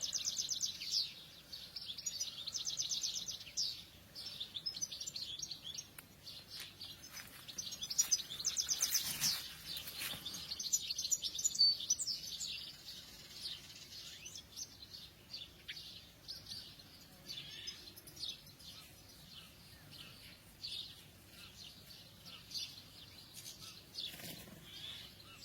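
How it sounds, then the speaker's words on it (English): Birds sing at sunrise on a heatwave morning: quiet, high chirps and tweets come in scattered bursts over a hushed, faint background, with no one talking. "I'm being very quiet and letting you listen to the birds"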